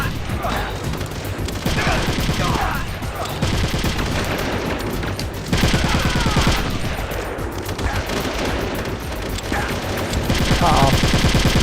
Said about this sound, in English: I'm pulling out the assault rifle